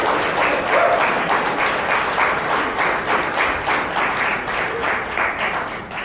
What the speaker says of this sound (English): Yes, we should applaud.